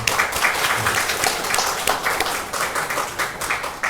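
A church audience applauds to welcome a retiring center director, steady mid-loud clapping from many hands that surges and eases in waves over a few seconds.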